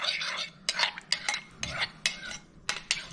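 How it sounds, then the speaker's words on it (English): A utensil stirs a dissolved yeast mixture for homemade Italian bread, making a series of quiet, irregular scrapes and clinks against a bowl, close up with no talking. "the yeast has dissolved. I'm going to go ahead and mix that up a bit."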